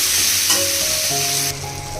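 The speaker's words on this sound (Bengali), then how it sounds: "ভেজে নেব ভালো করে নেড়ে চেড়ে" Mixed vegetables for shukto sizzle loudly in a hot pan, a dense continuous crackle with faint stirring scrapes, close up and without speech.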